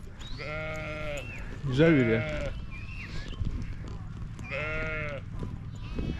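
Sheep bleating repeatedly at a historic site, several drawn-out wavering calls at close range with someone talking in between and over them.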